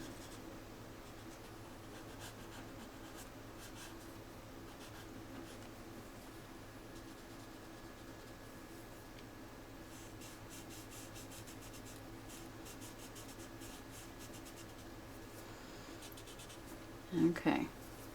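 A pencil rubs gently and steadily on paper during drawing, a soft continuous scratchy hiss close by that runs through the whole stretch, with a brief voice near the end.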